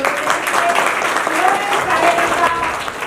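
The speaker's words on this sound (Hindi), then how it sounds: "पहले तो उनके लिए जोरदार ताली" Loud, sustained applause from a crowd at a community event giving bags to anganwadi children, dense clapping that continues steadily throughout.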